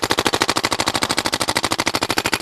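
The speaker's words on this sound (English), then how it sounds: "Now we also have the PMR set on NXL 13 balls per second." A 2009 Proto PMR paintball marker fires in a steady, rapid stream at about 13 balls per second, each pop loud and close, the rhythm even and unbroken throughout, with no talk.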